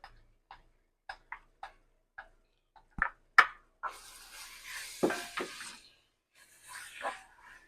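A spoon stirs boiled lentils into a fried spice mixture in a pan, starting with a run of sharp taps and scrapes against the metal and moving into louder, wet rubbing and churning strokes, close up.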